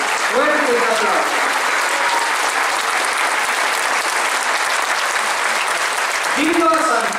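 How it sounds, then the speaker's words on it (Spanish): Strong, continuous applause from a crowd at a 2023 procession for the patron saint Santiago Apóstol in Huajolotitlán, Oaxaca, steady throughout, with voices heard briefly at the start and near the end. "Fuertes de aplauso a nuestro santo patrón."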